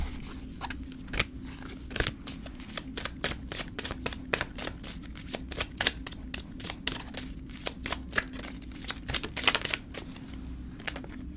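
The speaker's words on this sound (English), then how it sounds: "let's pull a few more cards here" Tarot cards shuffled and drawn, a rapid run of close, crisp flicks and snaps of card stock riffling against each other, with a few louder taps as cards are set down, over a faint steady hum.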